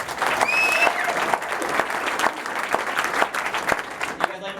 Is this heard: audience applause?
yes